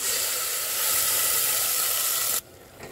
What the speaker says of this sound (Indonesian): Tumis bumbu halus.